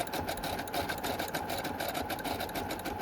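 A sewing machine runs steadily over the edges of a dust jacket, giving a fast, even mechanical whir with rapid stitching ticks. It is fairly quiet and continuous, with no talk.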